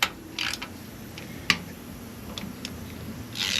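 Bolts on a 2014 Chevrolet Silverado are snugged down with a ratchet during a service, giving brief bursts of clicking pawl and sharp metallic ticks against a quiet garage background.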